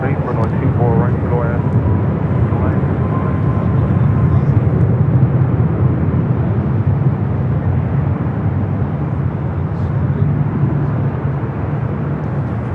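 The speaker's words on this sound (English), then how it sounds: "Next arrival is Air Tahiti Nui Flight 7, coming in from Paris on the 787-9 Dreamliner." An Air Tahiti Nui Boeing 787-9 Dreamliner jet arrives at LAX from Paris, a loud, steady, broad engine roar that holds throughout as someone talks over it.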